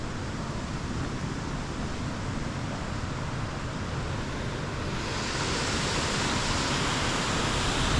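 A waterfall pours in a steady, dense roar of rushing water, loud and close throughout, with no voices.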